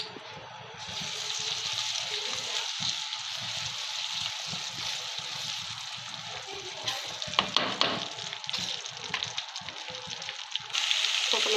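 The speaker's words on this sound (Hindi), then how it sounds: "थोड़ा सा मैंने ऑयल लिया और ऑयल में मैं लहसुन डाल रही हूँ।" Steady, crackling sizzle of crushed garlic frying in hot oil, continuous and close, with occasional stirring clatter and a brighter burst near the end.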